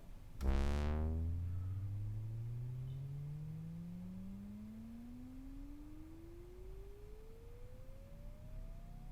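A synthesizer note on an Arturia Yamaha CS-80V starts low with a bright attack, then glides slowly and smoothly upward in pitch over several seconds, sustained and alone.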